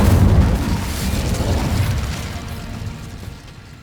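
A fiery Incendio spell blasts off in Hogwarts Legacy, a loud rumbling whoosh and boom that hits hardest at the start and then fades steadily over a few seconds, with no talking over it.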